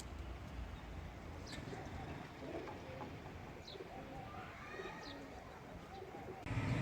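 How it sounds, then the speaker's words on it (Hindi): Pigeons coo softly outdoors amid faint chirps and steady background hiss, with light fluttering as birds settle, distant and low in level, ending with a brief louder rumble. "एक और कबूतर बैठ रहा है"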